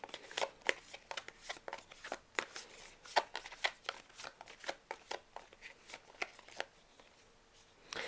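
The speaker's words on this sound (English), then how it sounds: "Let's pull a card to clarify the near future for Libra." Tarot cards are shuffled close up in a quiet room, a soft continuous run of papery riffles and slaps in irregular bursts, with no voices.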